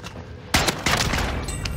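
Gunfire from a first-person shooter video game, a sudden loud burst of shots erupting midway after a quieter stretch, then continuing as dense, overlapping rapid fire through the end.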